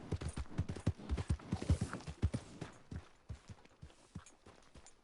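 Steady hoofbeats from a horse in Red Dead Redemption 2, a quiet walking clip-clop that is close at first and gradually thins and fades toward the end.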